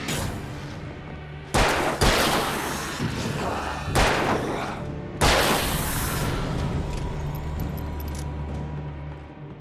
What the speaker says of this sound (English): Oh, flashbangs.